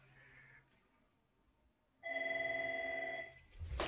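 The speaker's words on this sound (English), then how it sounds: "you can hear the attendant phone ringing in my office." Quiet room tone, then a home PBX attendant desk telephone bell rings loudly and steadily for over a second before a clunk.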